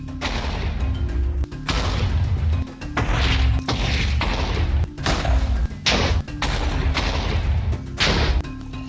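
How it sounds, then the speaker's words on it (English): Minecraft creepers explode one after another in a rapid series of loud, close booms and thuds, each a short heavy blast, with about a dozen in quick succession. "I had to go find some creepers and get them to explode"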